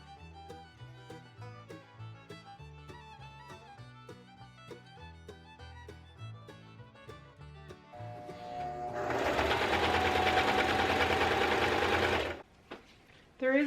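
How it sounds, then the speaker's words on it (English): A sewing machine stitches small bags made from sailcloth, running in a steady rhythmic series of needle strokes and then speeding into a loud, continuous whir before stopping abruptly near the end. "and then we're going to sew them."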